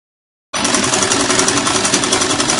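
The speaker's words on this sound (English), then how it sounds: "So I'm going to sew it down now by ½ inch." A sewing machine stitches a blouse sleeve seam, starting abruptly after a short silence and then running in a loud, steady, rapid mechanical chatter at close range.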